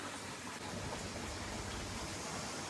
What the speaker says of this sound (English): As you can hear, the wind's getting up